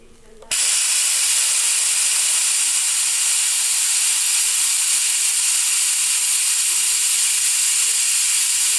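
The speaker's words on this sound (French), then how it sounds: "L'avantage des nettoyeurs vapeur qui sont d'une bonne qualité, je vais vous montrer, c'est que ça tient." A garment steamer starts with a sudden jet and then releases a loud, continuous, even hiss of steam that holds steady for several seconds with no talking over it.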